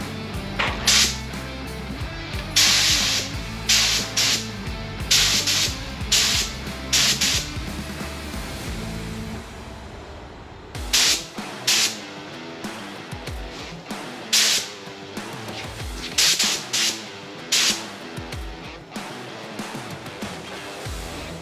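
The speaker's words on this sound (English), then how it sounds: "So let's get some primer on our part" A spray gun lays primer and paint onto a part of a 2020 GMC truck in repeated short hissing bursts, each lasting about a second with brief pauses between, close and steady, with no talk.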